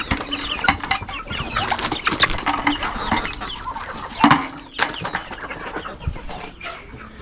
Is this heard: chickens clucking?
yes